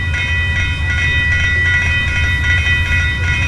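In the Trainz video game, two Amtrak trains pass over a street crossing in a steady, loud, continuous rumble. Rail clatter and metallic tones run throughout.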